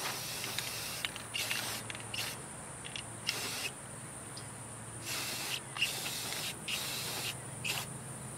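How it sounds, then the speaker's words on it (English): Bursts of aerosol spray paint hiss in short, repeated blasts onto a metal trap and chain, separated by quiet pauses with faint handling noises, close and without talk. "I'm going to finish painting this and allow it to dry completely."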